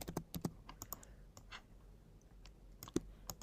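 Typing on a computer keyboard: a faint, irregular patter of crisp key clicks, some single taps and some quick clusters, set against quiet room background.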